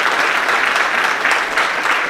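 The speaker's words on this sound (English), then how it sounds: "please bring a round of applause to the sir" Dense, steady applause from an auditorium audience at a conference, loud and continuous throughout the short stretch with no pauses.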